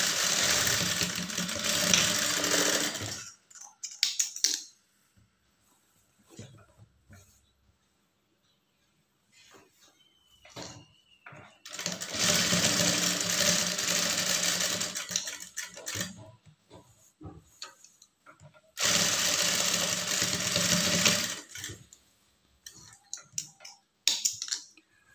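A sewing machine stitches a lined blouse in three loud, close bursts of steady mechanical whirring, each lasting several seconds and separated by near-silent pauses with faint handling clicks.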